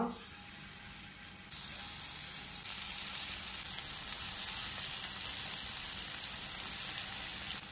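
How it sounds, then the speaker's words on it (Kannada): Masala-coated paneer frying in a few spoonfuls of refined oil on a tawa, giving a steady, loud close-up sizzle that swells as the pieces go in and then holds. "ತವಾದಲ್ಲಿ 3-4 ಚಮಚದಷ್ಟು ರಿಫೈನ್ಡ್ ಆಯಿಲ್, ಕೋಟ್ ಮಾಡಿದ ಪನ್ನೀರ್ ಹಾಕುವ."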